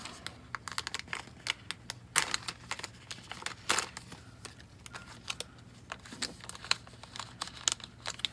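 Crisp crinkling of a silver foil packaging bag from an Arduino kit, with irregular crackles and rustles coming in quick bursts, close up and fairly quiet.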